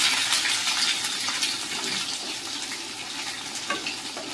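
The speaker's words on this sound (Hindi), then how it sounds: "अब इसको अच्छे से फ्राई करेंगे।" Chopped onions hiss and crackle as they fry in a pan, with steady broadband sizzle and soft scraping stir strokes throughout, no voices.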